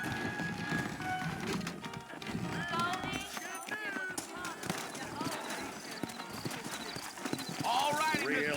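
Horses' hooves clip-clop in a Western-themed Red Dead Redemption game scene, a brisk running rhythm of hoof strikes with occasional whinnies, heard under voices and background sound.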